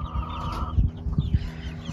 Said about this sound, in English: Oh, I hear you. That's a turkey noise.